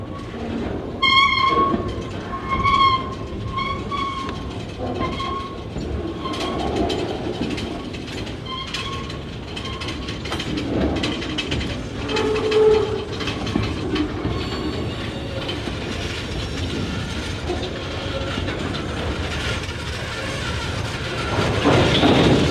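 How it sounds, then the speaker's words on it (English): EMD Geep diesel locomotives of the Georgia Central shove loaded freight cars out of a siding onto the main line, with repeated horn blasts, engine rumble, clanking couplers and squealing wheels, loud and near throughout. "crew tied onto the loaded cars and began to shove them out of the siding onto the main"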